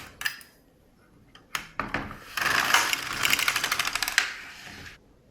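A Brother LK150 knitting machine carriage runs across rows of waste yarn, giving a close rattling, clacking sweep with quick rhythmic clicks, several separate passes broken by short pauses.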